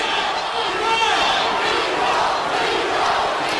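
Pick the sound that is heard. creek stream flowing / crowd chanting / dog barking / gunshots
crowd chanting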